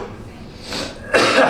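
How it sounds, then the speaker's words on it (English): A pair of short, harsh coughs close by, the second louder and breathier than the first, caused by fine dust during a DIY accent wall job. "It's making me cough."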